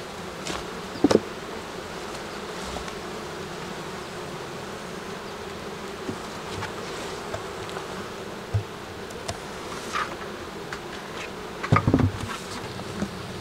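Honeybees buzzing around beehives in Québec, a steady dense outdoor drone of many insects at moderate level, with occasional louder individual bees passing close and a few brief knocks.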